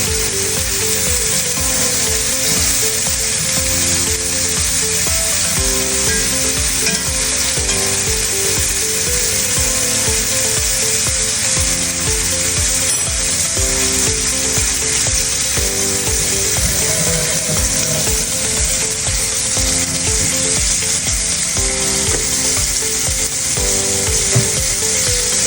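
A T-bone steak sizzles loudly in a cast iron skillet with butter and olive oil, a dense, steady, close crackle that runs unbroken throughout.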